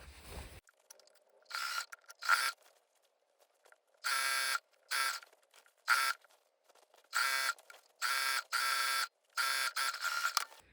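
A sewing machine stitches the side seam of a lined yoke gore skirt, sounding in close, loud bursts of rapid buzzing that start and stop repeatedly, with short quiet gaps between runs and no talk.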